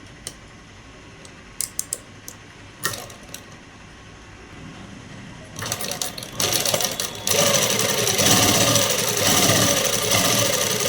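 Sewing machine stitching cloth laid on canvas for a dress, starting with a few scattered clicks and short bursts, then settling into continuous loud, close running for the last several seconds with no talking.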